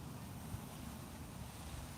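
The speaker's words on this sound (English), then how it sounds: "and watching the waves." Ocean waves and wind on the South Carolina coast at Myrtle Beach, a steady, continuous roar of surf blended with blustery wind buffeting the microphone, with no voices.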